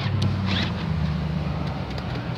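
Power-folding third-row seat of a 2016 Mercedes-Benz GL450 whirring as its motor runs, a faint steady mechanical drone with a few light squeaky clicks, quiet and close without speech.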